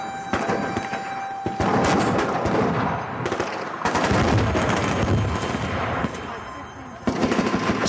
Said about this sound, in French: Chris essaie une carabine de calibre 50, capable de stopper un véhicule blindé